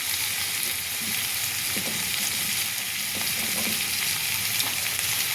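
Boiled jackfruit and potato fry with onion in hot oil, giving a steady close sizzle throughout with occasional soft stirring knocks and no talking.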